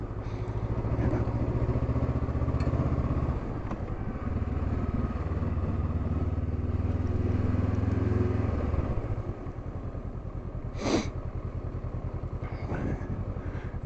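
Motorcycle engine lugging in third gear on a six-speed bike, a close, loud low rumble that rises and falls with throttle over the first nine seconds and then eases to a lighter running drone with a couple of brief clanks.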